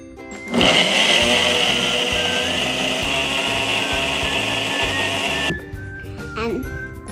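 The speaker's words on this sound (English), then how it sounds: "And I'll put 4 fruit in a blender." A blender blending fruit roars loudly and steadily for about five seconds, a dense whirring motor grind, then cuts off, leaving a few soft clinks.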